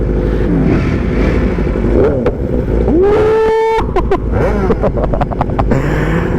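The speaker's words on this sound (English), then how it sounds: "Man, my bike sounds so good, man." A 2022 Ducati Panigale V4 motorcycle roars while being ridden, with rising and falling engine pitch through revs and shifts, loud and close under heavy wind buffeting.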